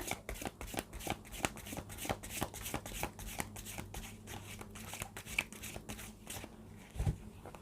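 Tarot cards are shuffled by hand in quick repeated riffling bursts, close and fairly soft, with a steady rhythm of flicks and slaps and a slight pause near the end.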